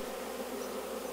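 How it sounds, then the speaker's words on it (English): A large caught swarm of honey bees buzzes in a bottom hive box, a dense, even hum heard up close and alone for a brief moment. "good swarm of bees we got here"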